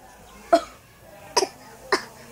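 Three short cough sounds spaced apart, a person imitating coughing, fairly close and moderately loud.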